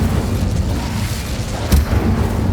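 Incendio fire spell cast in Hogwarts Legacy: a low, continuous rumbling roar with a sharp burst of flame around the middle, close and fairly loud.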